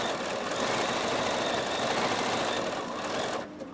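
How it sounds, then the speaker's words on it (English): Bernina sewing machine running fast on zigzag stitches, a dense steady mechanical whir with rapid needle clatter, loud and close, with no talk. "So now I can push my start stop button and the machine's going to sew."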